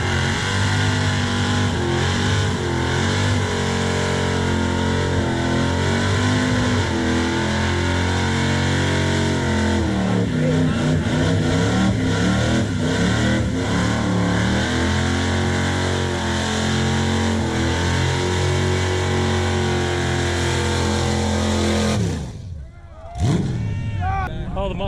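A Ford Mustang engine revs hard and loud at a burnout event, with repeated rising and falling revs in a sustained roar that cuts off abruptly near the end.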